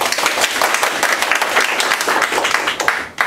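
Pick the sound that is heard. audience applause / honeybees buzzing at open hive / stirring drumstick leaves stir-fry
audience applause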